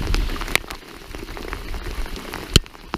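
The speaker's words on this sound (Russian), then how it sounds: "опять дождь пошел" Steady rain falling outdoors on a fishing trip, a dense continuous patter of drops on surfaces, with a few sharper nearby splats or knocks standing out.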